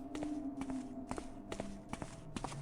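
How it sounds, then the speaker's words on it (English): Footsteps cross a balcony in the stealth game Thief II: The Metal Age, about five soft, evenly spaced treads with a steady low hum running under them. "I could clearly tell that was somebody walking on that balcony there"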